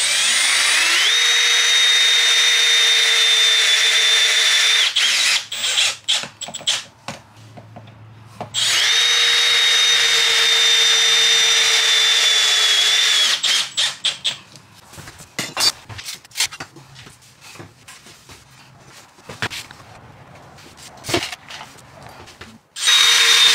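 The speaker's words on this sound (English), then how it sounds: "So we're gonna use these flathead 5/8 self-tapping metal screws and then get that front end tacked in." A power drill drives flathead self-tapping metal screws into a metal bed frame for a bus conversion, two long whining runs with a pitch dip as each screw seats, followed by scattered clanks and tool handling.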